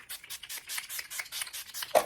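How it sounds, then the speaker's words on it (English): Rapid series of short hissing spritzes, about nine quick pumps of setting spray in an even rhythm, close and fairly soft. "So let me just add some setting spray now and I'm all done."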